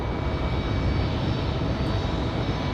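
An Airbus A320 jet departs on its takeoff roll, its engines producing a loud, steady, broadband roar that holds level and unbroken throughout, with no voices.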